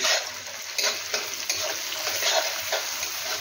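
Ginger frying in a pan over a high flame for Chinese Hakka noodles, with a steady close sizzle and repeated scraping stirs, no voices.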